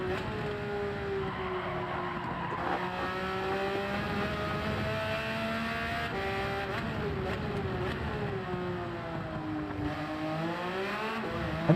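Subaru BRZ race car engine in Gran Turismo 7, revving up and down through gear changes as it powers out of corners, with rising and falling engine tones and occasional tire squeal.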